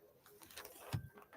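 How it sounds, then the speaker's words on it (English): Doves cooing nearby, a few soft low coos with one louder coo standing out over quiet background, no talk. "the doves are talking overtime."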